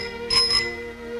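A bright bicycle bell on a new bicycle in a 1936 film gives a short double ring, loud and close, over a steady background hum.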